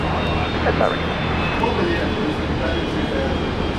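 A fixed-wing airplane at Brisbane International Airport rolling for takeoff on runway 19 right, a loud, steady engine roar filling the whole stretch, with speech faintly mixed in.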